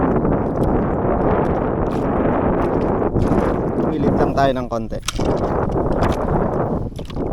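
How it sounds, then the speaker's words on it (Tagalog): Strong wind at sea during a jigging fishing trip buffets the microphone with a heavy, continuous roar while someone speaks briefly over it. "Lumipat tayo ng pwesto kasi mabilis yung tangay ng hangin"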